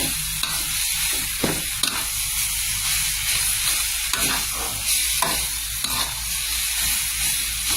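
Jackfruit stir-fried in a pan with shredded kaffir lime leaves, a steady close sizzle with scraping stirs and soft clatters of the utensil against the pan throughout.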